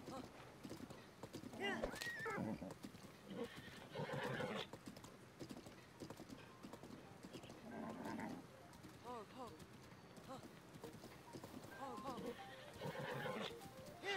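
Hooves of a giant horse pound rhythmically in Zelda: Breath of the Wild, broken by several loud whinnying neighs, with a voice talking over parts of it.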